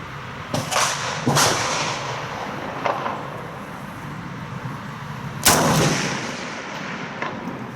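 Rifle shots ring out on an outdoor shooting range, a few sharp loud cracks spread over several seconds, the strongest near the end, over a steady background rumble.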